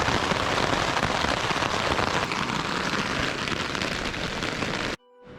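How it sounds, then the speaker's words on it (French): Heavy rain pours steadily at night in the Écrins mountains, a loud dense close patter on surfaces that cuts off abruptly near the end, leaving only faint tones. "Bah là il pleut bien là"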